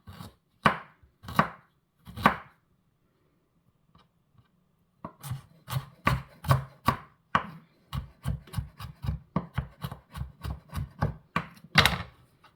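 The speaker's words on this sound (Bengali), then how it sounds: "এখন লাগবে জিঞ্জার, আদা লাগবে আমার এখানে। ছোটো ছোটো করে আমি কাটিয়ে নিয়ার।" Knife chopping fresh ginger into small pieces on a cutting board, three slow separate strokes, a pause, then a quick run of sharp, close, rhythmic cuts.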